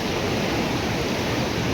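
A flooded river in Lalitpur in the Kathmandu Valley rushes past in a dense, unbroken roar that is loud and close, with no other sounds.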